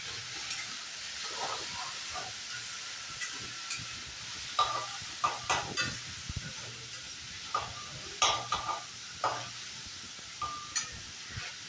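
Banana stem and onion frying in oil in a pan, a low soft sizzle under scattered scraping and tapping stir strokes that grow more frequent toward the end.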